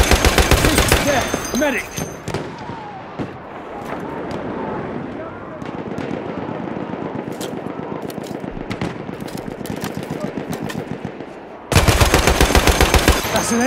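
Enemy gunfire in the video game Battlefield 1, an Austro-Hungarian operations match at Brusilov Keep: loud, rapid machine-gun bursts open and close the span, with scattered nearer shots and battlefield noise between, and a brief voice in the middle.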